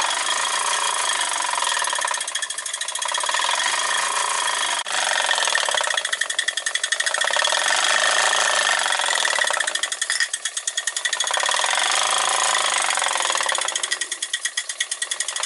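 A steady, rapid mechanical chugging with a fast repetitive knock from a 76-year-old model steam engine driving a nodding-donkey oil field pump model, loud and continuous with a slight rise and fall in intensity.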